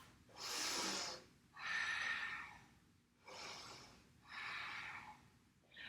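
Slow, soft yoga breathing: four or five long, airy breaths alternating in and out in a steady rhythm, faint and close, with quiet pauses between them.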